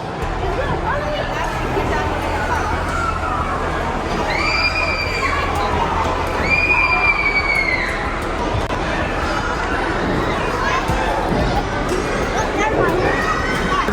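A large crowd of children shouts and chatters in a busy indoor play area with bungee jumping, a dense, loud, continuous roar with a few high squeals rising above it.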